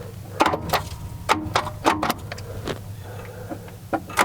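A seized Dodge Charger engine, long sat and crushed, turning over on its starter when jumped across with a screwdriver: several short bursts of cranking and clicking over a low steady hum, close by.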